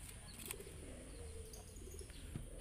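A domestic pigeon coos softly and low after being bathed, a few faint rolling coos over a steady background hum.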